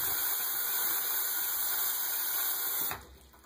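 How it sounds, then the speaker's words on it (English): Cold tap water runs steadily and loudly over the leg of a vintage action figure for a few seconds before the flow cuts off abruptly, leaving faint residual hiss. "Hit it with the cold water."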